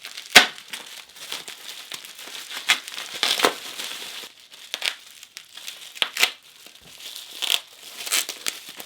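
Packaging around a challenge lock being cut and torn open, a close stream of crinkling, crackling plastic and sharp snips at irregular intervals, no speech.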